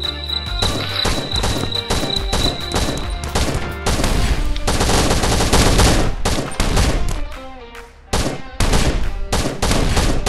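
Rapid gunfire in an online raid-and-defense shooter game, dense bursts of shotgun-like blasts and automatic fire cracking loud and close, nearly continuous with brief gaps, no talking over it.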